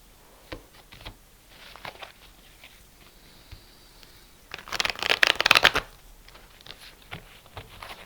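Oracle cards are handled with soft taps and slides, then riffled in a loud, crisp burst of shuffling before quieter handling returns.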